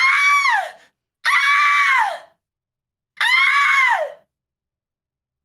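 A person imitates a screaming airport Karen, letting out three loud, long shrieking screams separated by short silences.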